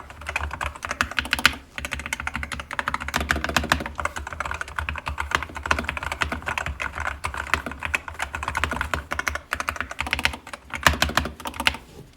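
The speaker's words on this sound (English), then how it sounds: "The sound of this keyboard is nice. It's pleasant, it's not too loud." Steady, close typing on a Kemove T68-C keyboard with magnetic switches and an ABS plastic case, a dense run of quick keystrokes with brief pauses and a few louder clacks, alone without talk.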